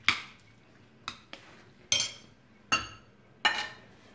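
Chotpoti ingredients mixed in a bowl with onion, green chili and coriander: six sharp metallic clinks of a utensil against the dish, spaced irregularly and close by, with quiet pauses between. Nobody speaks.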